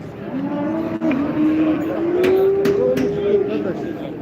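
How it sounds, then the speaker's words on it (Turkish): Young male calves mooing at a Turkish livestock market, one long drawn-out low moo under steady crowd noise, with people talking nearby. "Şu gördüğünüz danalar"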